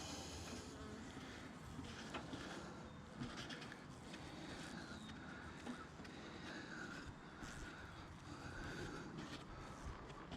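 Dense, steady buzzing of many honey bees swarming around a hive damaged by a bear, continuous and close, filling the air without pause.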